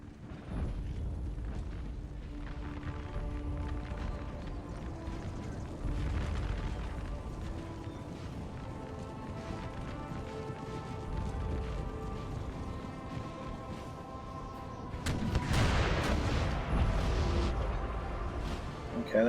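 Troops fire in the video game Napoleon Total War, with distant booming musket volleys and rumbling battle noise beneath a sustained musical score, building to a louder burst of firing near the end.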